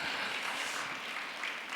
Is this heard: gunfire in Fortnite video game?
no